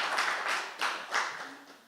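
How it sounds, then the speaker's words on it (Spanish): Light, brief applause from a small audience at a talk on Sufi women, a handful of soft, irregular claps close by that quickly thin out. "un aplauso para las hermanas que han cantado muy bien"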